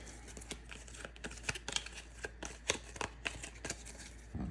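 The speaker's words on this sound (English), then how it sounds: "We shuffle these back up." Rapid crisp riffling and snapping of playing cards being shuffled, a series of sharp papery bursts close to the microphone, with no talking.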